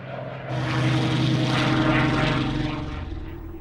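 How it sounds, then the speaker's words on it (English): A Supermarine Spitfire fighter with its Rolls-Royce engine drones loudly and steadily, the propeller roar swelling after a brief start and holding strong throughout, an old wartime recording with no voices. "its remarkable aircraft, the Spitfire, with its Rolls-Royce engine, one of the best fighter planes in the world"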